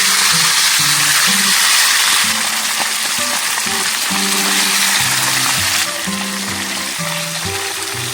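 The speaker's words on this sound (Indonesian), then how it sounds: "Setelah minyak panas, ikan pun siap untuk digoreng." Red devil fish frying in hot oil at a solo campsite, a loud, steady crackling sizzle that carries on throughout with a busy hiss and occasional pops.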